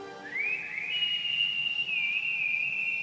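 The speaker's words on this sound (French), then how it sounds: "Arrête de siffler, concentre-toi." A cartoon character from the Gormiti animated series whistles one continuous, rising then level melodic tone, close and clear, with no talking over it.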